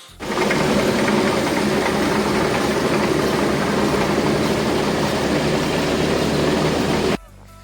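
A chair lift engine runs steadily at a river site on a trip to Swat. Its loud, close, continuous mechanical drone starts abruptly, holds for about seven seconds and then cuts off sharply.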